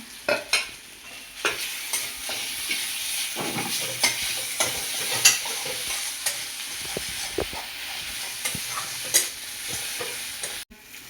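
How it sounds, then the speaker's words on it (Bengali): Ginger-cumin paste frying in a pan for katla fish kalia crackles and hisses continuously, with repeated scraping strokes of a spatula at an irregular rhythm, close and fairly loud. "তারপরে আদা জিরে বাটা দেবো"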